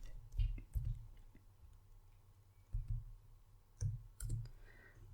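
Quiet computer mouse clicks from running a query in Power BI: a handful of soft, sharp clicks spaced irregularly, some in quick pairs, close to the microphone with no talking.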